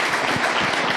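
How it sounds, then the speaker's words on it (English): Audience applause for panelists at a men's health report launch event, a brief, loud burst of crowd clapping filling the room, with no talking. "let's give a round of applause for our amazing panelists"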